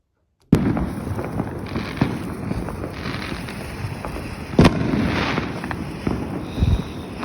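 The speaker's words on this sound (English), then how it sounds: "It's just me filming the last firework before New Year's hit it." A New Year's firework goes off outdoors as a sudden bang followed by ongoing crackling and hissing bursts, with a sharper pop midway and wind rumbling against the microphone.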